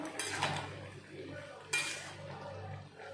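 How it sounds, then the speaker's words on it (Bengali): Two metallic clatters, a pan lid lifted off mixed vegetables and handled, sound near and crisp against a low background hum, with a quieter bubbling murmur between them. "ঢাকনাটা তুলে নিলাম"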